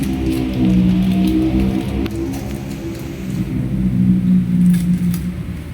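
Rain patters steadily on a surface, mixed with a low rumbling hum underneath, continuous and fairly loud throughout.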